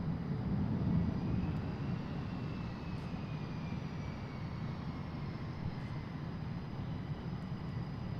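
Blue Angels jets idle at Boeing Field, a steady, broad roar from the engines that holds level throughout and is heard from some distance, with no one speaking.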